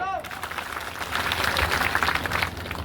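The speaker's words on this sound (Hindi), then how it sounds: "ताली बजाओ" A crowd at a political rally breaks into applause, a dense, steady burst of clapping that swells and holds loud for a few seconds right after a brief cry from a speaker.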